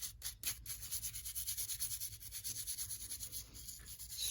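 Steady scrubbing of a vintage AHM four-wheel diesel motor case, a continuous close rubbing with a quick pulsing rhythm, a few sharper strokes at the start, and no voices.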